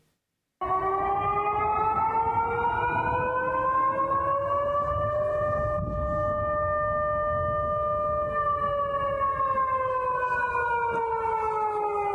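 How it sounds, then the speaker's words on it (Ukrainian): A loud air raid siren wails steadily, its tone slowly rising and falling over a long sustained blast with low rumbling underneath. "Виє повітряна тривога, лунають гучні вибухи."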